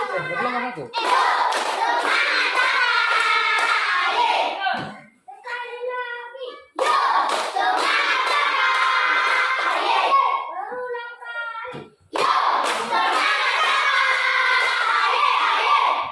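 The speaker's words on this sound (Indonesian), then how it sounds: "Ya, tepuk tangan." A classroom of children claps hands in long, loud bursts, each several seconds of dense rhythmic clapping separated by brief pauses where a few voices and scattered claps are heard.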